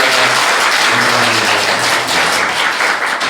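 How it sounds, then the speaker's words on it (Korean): A church congregation at a Sunday worship service claps in welcome for visiting guests, a loud, dense burst of applause filling the room throughout, with a low voice faintly audible beneath it. "우리 한번 박수하겠습니다"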